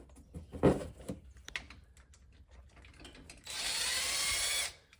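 A small impact gun spins bolts off the clutch cover of a 2004 Honda VTX 1800C, one loud sustained burst of about a second after some light clicking and handling of parts.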